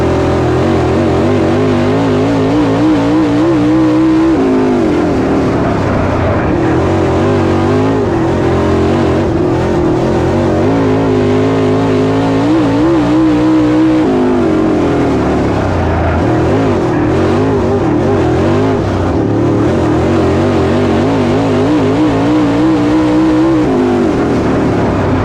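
Race cars roar around the dirt oval at All-Tech Raceway, several engines droning and revving loudly together in a continuous rising and falling wail that swells as the pack passes, with no talk over it.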